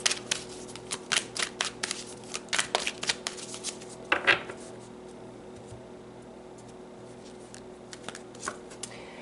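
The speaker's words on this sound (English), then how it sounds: "So let's pull some more cards." Tarot cards are shuffled and pulled for a reading, with a run of crisp riffling card sounds followed by a few softer card placements near the microphone in a quiet room.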